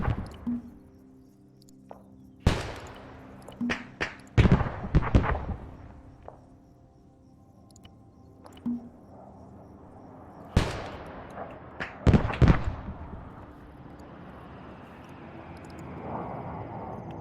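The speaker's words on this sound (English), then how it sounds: "we're just gonna keep firing with the mortar" Mortar rounds firing in the military video game Arma 3, several heavy booming blasts arriving in tight clusters with long rumbling tails and quieter pauses between salvos, mixed with distant reports and no talking.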